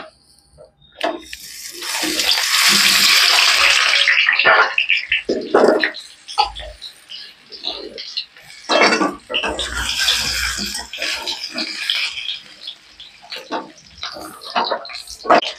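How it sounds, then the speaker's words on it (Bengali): Boiled small potatoes go into hot oil with loud bursts of hissing sizzle, easing into quieter crackling and spatters between surges. "আলুটা আমি ভেজে নেব।"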